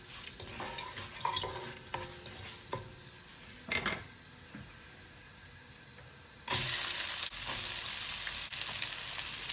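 Onions frying in a pan for black chickpea curry: a steady sizzle under scattered spoon scrapes and stirring knocks, then a louder burst of hissing as more goes into the hot oil partway through.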